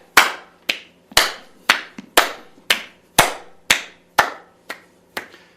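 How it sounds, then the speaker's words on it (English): Hands clap behind the back during an upper-body warm-up, eleven sharp, evenly spaced claps in a steady rhythm, close and clear with no talking. "So notice as I clap behind me"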